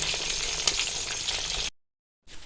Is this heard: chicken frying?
yes